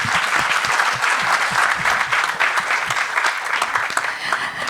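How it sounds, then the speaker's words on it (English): An audience claps steadily throughout, a loud continuous wash of many hands at a talk event, with no voices standing out above it. "Can we have a huge round of applause for her, please?"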